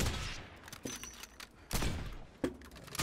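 Scattered gunshots in the survival game Rust during a one-on-one fight, a few sharp reports spaced apart with softer clicks and rustling between them.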